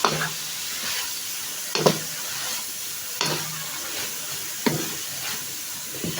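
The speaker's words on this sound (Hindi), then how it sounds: "मिक्स करेंगे थोड़ा सा।" Kabuli pulao being stirred in a pot, with a low sizzle and faint steam hiss under four or five distinct scraping, clattering stirs spaced a second or so apart, close up and without speech.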